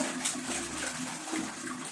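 Water runs steadily from a tap while an Intex inflatable swimming pool is being set up, a faint continuous splashing hiss with no one speaking.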